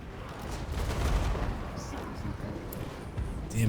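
Cannon and artillery fire in a Total War: Warhammer 2 battle, a dense continuous barrage of booms and crackling blasts with a voice talking over it.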